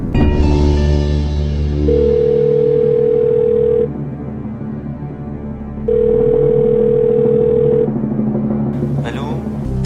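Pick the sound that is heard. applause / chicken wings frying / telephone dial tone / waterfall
telephone dial tone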